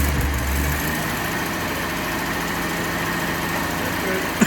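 An old 74-year-old Nash barn-find car engine, long unused, cranking and catching, heard as a loud, continuous rough engine drone with a low rumble at the start, running steadily with a brief knock at the end.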